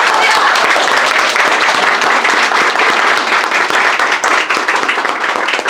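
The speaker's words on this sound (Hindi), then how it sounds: "उसके लिए जोरदार ताली बजाएं।" Audience applause at a CBSE toppers award distribution ceremony at a coaching centre, a loud sustained wash of many hands clapping continuously throughout, with a voice faintly underneath.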